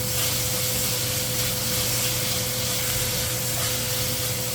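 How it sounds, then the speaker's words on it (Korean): Minced garlic frying gently in a pan over low heat, a steady, even sizzle with a faint low hum underneath, continuous and close throughout. "불은 약하게 해서 다진 마늘 볶아주고"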